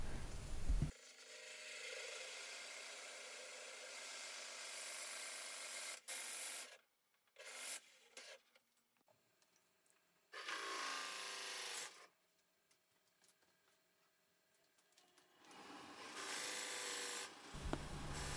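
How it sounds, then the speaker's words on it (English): A dull Forstner bit hollowing a maple log spun on a wood lathe gives a steady rasping, grinding roar in long bursts separated by quiet pauses, close and loud with no talking. "Now using a Forstner bit to start the hollowing process."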